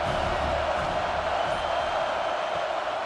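Stadium crowd at an AAF football game roaring for the defense on a big third down: a dense, steady wash of cheering holds at even loudness throughout, with no clear speech.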